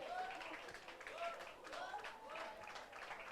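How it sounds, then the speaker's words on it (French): An audience applauds a contestant at a school youth challenge event, a continuous wash of clapping with voices mixed in, moderately distant and fairly soft. "Sous vos acclamations, s'il vous plaît."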